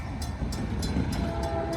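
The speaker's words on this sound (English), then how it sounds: "There's a train coming." A CSX train rumbles steadily nearby, stopped across a highway near a fire station, with a low, continuous roar, periodic rhythmic clacks, and a faint bell-like tone near the end.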